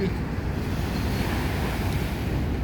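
Gentle waves wash onto a small beach on the East River at Brooklyn Bridge Park in Dumbo, a continuous rushing wash mixed with wind buffeting the microphone.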